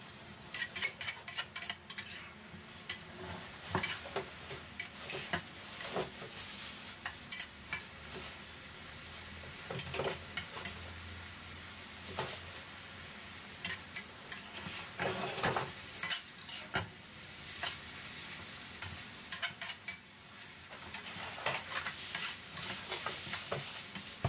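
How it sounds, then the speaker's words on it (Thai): Egg and kae flowers are stir-fried in a pan with oyster sauce, seasoning sauce and sugar, giving a steady quiet sizzle broken by frequent scraping and clinking of the spatula against the pan. "ผัดต่อนะครับ ให้ไข่สุกเลยนะครับ"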